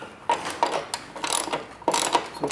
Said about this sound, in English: let's see if we can put a ratchet on it and tighten it up